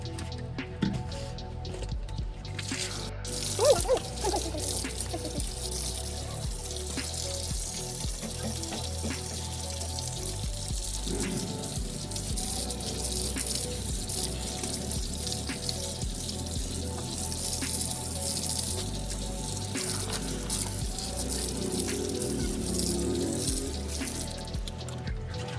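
Water splashes and trickles steadily over a dog being bathed, with soft dripping and squishing through a long, fairly quiet stretch and a brief louder splash early on.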